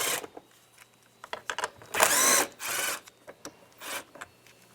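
A 7mm socket takes screws out of a GMC Yukon door panel near the pull handle, with soft scraping and clicks around a couple of louder, brief whirring bursts in the middle.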